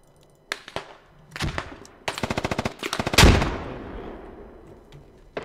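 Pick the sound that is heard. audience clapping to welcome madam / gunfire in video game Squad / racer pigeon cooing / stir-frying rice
gunfire in video game Squad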